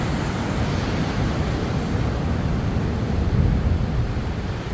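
Ocean waves wash against shoreline rocks at Depoe Bay at dusk, a loud steady roar of surf with low rumbling swells and wind buffeting throughout.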